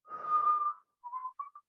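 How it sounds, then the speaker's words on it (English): A person whistles one long held note, then a few shorter notes, clear and close with no other sound around it. "I just learned to whistle."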